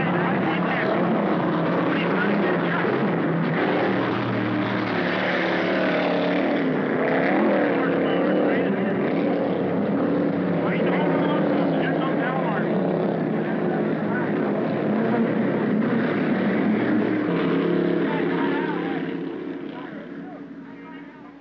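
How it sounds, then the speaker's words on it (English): Racing powerboats at the 1960 Orange Bowl International Regatta give a continuous, loud engine roar that fades at the end, with a voice talking over it. "features the fastest class racing boats in the world."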